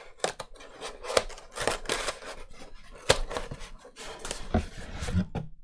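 Cardboard flaps on a FedEx shipping tube folded in by hand, giving a close run of crisp crackling, snapping and rustling clicks with a few sharp peaks, no talk.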